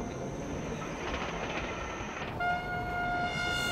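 Cartoon diesel train pulling into a harbor, a steady rumbling rail noise that shifts partway through into a sustained tonal horn-like hum, close and moderately loud with no talk.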